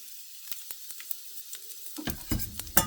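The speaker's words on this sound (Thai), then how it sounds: "ใส่น้ำมันลงไป วัตถุดิบของเรากระเทียมสับ ใส่ลงไปจ้ะเนื้อหมู หอมใหญ่" Minced garlic and pork go into hot oil for a Thai stir-fry with onion, and a quiet pan jumps to a loud crackling sizzle partway through, with sharp pops and clicks of stirring.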